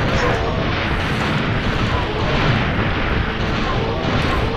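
A mounted gun atop a guard tower fires continuously in Dino Crisis 2, a dense, loud, unbroken barrage of shots and booms lasting the whole stretch with no clear pauses.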